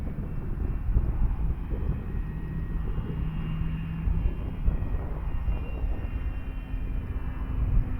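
An FMS Ranger 1800mm radio-controlled plane flies on a windy day, its electric motor giving a steady, moderately loud drone with wind buffeting the microphone throughout.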